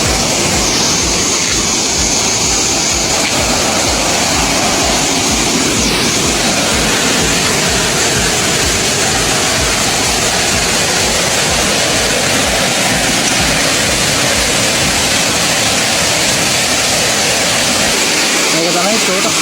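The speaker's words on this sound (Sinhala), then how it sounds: "මේක තමයි තෝටස් ඇල්ල කියන්නේ." Thotas Ella waterfall pours with a steady, loud, close roar of rushing water that holds unbroken throughout.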